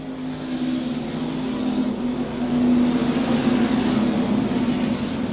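Stock cars roar together toward the finish line at a USRA finals dirt race, a steady loud engine drone that swells and grows louder partway through, with no talk.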